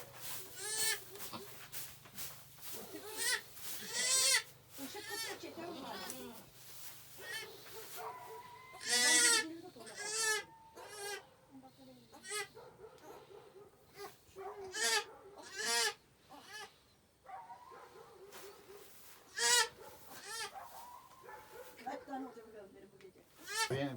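Goats bleating repeatedly during a natural goat birth of triplets, some calls close and loud, others softer, with a person talking quietly in between.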